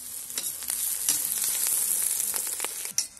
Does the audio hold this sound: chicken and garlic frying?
yes